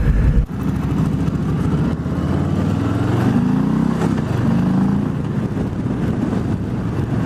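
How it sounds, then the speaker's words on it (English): A 2018 Harley-Davidson Softail Slim with the 107 engine runs steadily at speed, its low, continuous rumble and road roar loud and up close, with no talk. "I expect this engine to be exactly the same as the rest of the Softail 107s."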